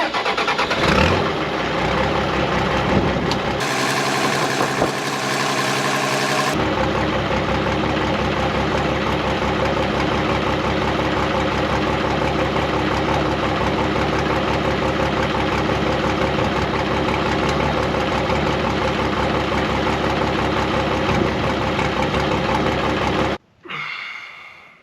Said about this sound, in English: So start the truck up, turn all the valves on